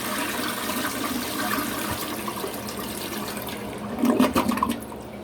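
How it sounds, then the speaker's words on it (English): A toilet that was just unclogged with a drain coil flushes, a steady rushing swirl of water close by that rises into a louder gurgling gush near the end before settling. "This is my third flush"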